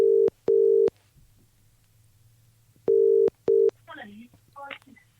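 Outgoing phone call ringback on a live podcast line: two pairs of steady electronic ring tones with pauses between, then faint voices briefly speaking at the end.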